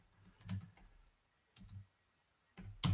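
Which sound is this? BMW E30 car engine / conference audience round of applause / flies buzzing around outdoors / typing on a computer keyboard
typing on a computer keyboard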